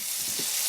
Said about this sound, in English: soft sizzle of oil on a pan